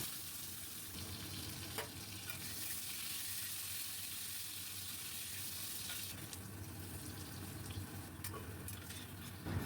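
Cut potatoes fry in hot oil on a high gas flame, giving a steady, dense sizzling hiss that runs throughout, close and even, with occasional stirring clinks and no talk.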